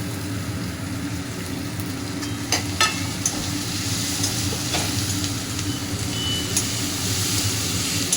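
Cumin powder and green chili frying in oil in a pan for Bengali egg devil, a steady close sizzle with a few light clinks and scrapes of stirring, no voices.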